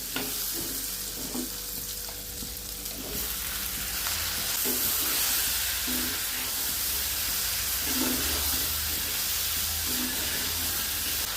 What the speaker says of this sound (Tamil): இப்போ தக்காளி சேர்த்துக்கலாம்.